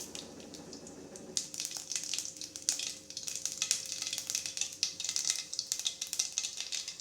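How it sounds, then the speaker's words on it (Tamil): Mustard seeds hit hot oil in a kadai while cooking a roasted brinjal pachadi. A quiet hiss breaks into a dense run of sharp, crackling pops that keep going steadily for several seconds, close up and with no voices. "எண்ணெய் காஞ்சிருச்சு கடுகு போட்டுக்குவோம்"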